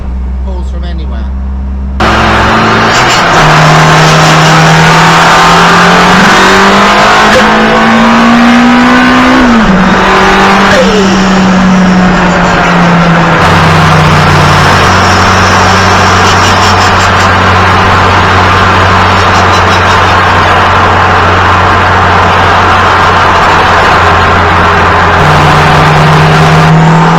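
A Toyota MR2 Mk3 pulling from low revs in second gear behind a bike, with a loud, close engine drone that rises and holds under someone talking over it.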